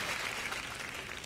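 A brief, fairly quiet burst of studio audience applause on The Bachelorette, a soft continuous patter of many hands with no voices over it.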